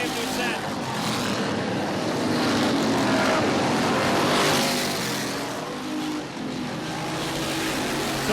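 Thunder Cars racing at Barrie Speedway, their engines roaring loud and steady as the pack circles the short oval, with a commentator talking over the continuous engine noise.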